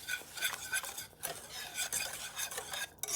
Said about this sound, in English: We're going to add our sugar and stir it in.